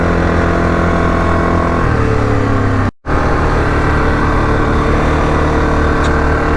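A Yamaha Grizzly 660 ATV runs along freshly graded back roads, its engine a steady, loud, close drone with a brief cut in the middle before carrying on.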